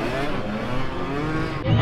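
Two-stroke pit bike engine revving at a night dirt bike race, a buzzing, rising engine tone that surges louder near the end, with voices in the background.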